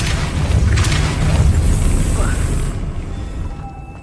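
The Depulso force spell cast in Hogwarts Legacy, a dense booming blast that carries on as a rumbling roar for a few seconds, then thins into quieter game ambience.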